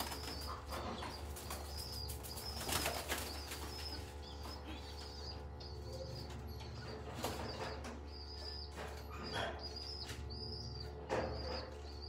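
A pigeon flapping its wings as it is caught, quick bursts of wing flutter and scuffling repeating through a quiet, steady background hum, with faint bird coos nearby.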